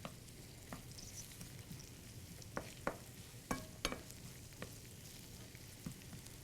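Vegetables for a Spanish tortilla fry softly in a pan with a faint, even sizzle, broken by scattered sharp clicks and taps from stirring.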